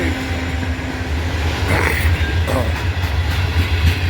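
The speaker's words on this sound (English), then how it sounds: "These are loaded covered hoppers as a center flow type." A freight train of loaded center-flow covered hopper cars rolls past close by, with a steady, loud low rumble and rhythmic wheel clatter that continues throughout.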